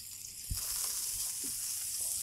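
Pork chops sizzle in oil on a Blackstone griddle, giving a steady bright hiss throughout with a few soft scrapes and taps underneath.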